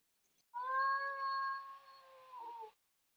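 A domestic cat gives a sustained, wavering cry that lasts about two seconds with no talk around it. The cat is reacting to a wild civet that has come near a home kitchen.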